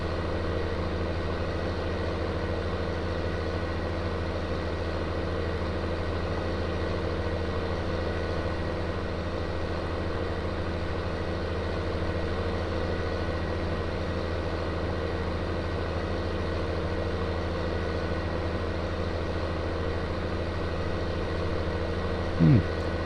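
Steady tractor engine held at about 1,800 RPM in Farming Simulator 19, a continuous low droning hum with even harmonics running unbroken throughout, with a brief blip near the end.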